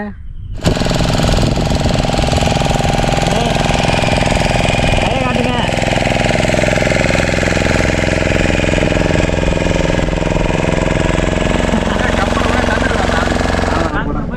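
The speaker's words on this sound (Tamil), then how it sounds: "இன்னொரு போட்டு வந்து வந்துக்கிட்டு இருக்கு" Boat engines at sea, with a loud, steady motor drone running nearly throughout as boats pass close by near Kattumavadi, with people talking over it.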